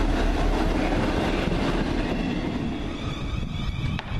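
A train arriving at Basingstoke station, giving a steady low rumble with rolling wheel noise and a faint squeal near the end, fairly loud and close, no talking.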